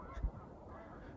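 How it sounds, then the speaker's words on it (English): One short, distant goose honk on an overcast day outdoors, faint against quiet background. "I hear the geese."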